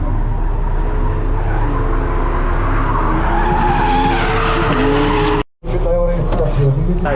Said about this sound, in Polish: A tam Tobiasz jedzie